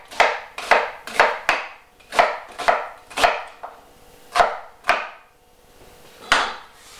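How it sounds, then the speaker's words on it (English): A kitchen knife roughly chops vegetables on a board for sweetcorn chowder, giving about a dozen crisp, close thuds at an uneven, brisk pace with short pauses between strokes. "Roughly chop."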